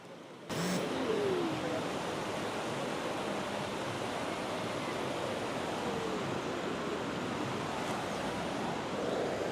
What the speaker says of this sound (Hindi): The voice of river. If you can hear it.